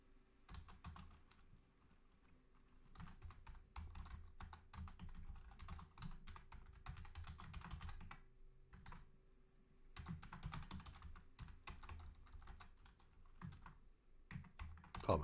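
Steady typing on a computer keyboard during a live stock market session, a continuous run of faint, quick key clicks with short pauses and no talking.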